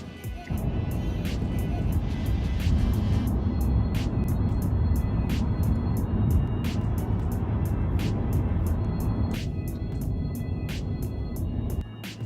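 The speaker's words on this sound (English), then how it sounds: "people see a whole bunch of the same kind of car just go past all at the same time" A group of electric cars from an owners' meetup at Zealandia in Wellington rolls past in a steady stream. The tyre and road noise is continuous and fairly close, with sharp intermittent clicks and no talking.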